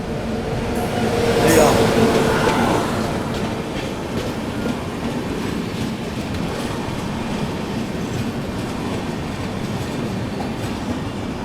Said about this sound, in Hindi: भुवनेश्वर तेजस अपने से क्रॉस हो रही है, भुवनेश्वर तेजस राजधानी।